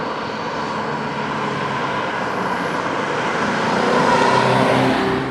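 An Alfa Romeo Alfasud Sprint's engine pulls hard under acceleration, a loud, steady droning roar heard from inside the car that builds slightly toward the end.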